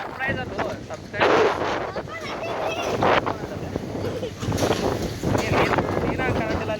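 Strong wind gusts through trees outdoors, roaring and buffeting in uneven surges that rise and fall, with a person speaking amid the noise.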